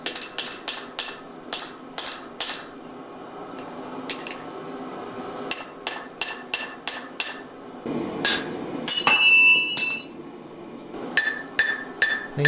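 Hammer blows ring out as an axe is forged from soft wrought iron, sharp metallic strikes coming in quick irregular bursts with pauses between, close and loud, with a brief higher ringing clang partway through.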